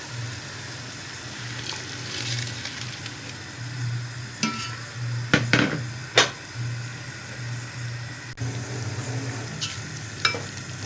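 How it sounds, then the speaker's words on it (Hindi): Rice going into boiling water in a pot for chicken tikka biryani: a steady bubbling hiss with a few sharp splashes and clinks midway, close-up and moderate in level. "पानी में बॉयल आ रहा है, जिसमें चावल डाल देंगे।"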